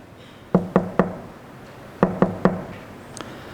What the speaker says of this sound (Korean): 그때 누군가 밖에서 문을 두드립니다.